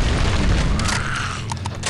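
Zombie-shooting gameplay in Into the Dead 2, with loud booming gunshots in a steady burst that trails off, then a few sharp isolated shots near the end.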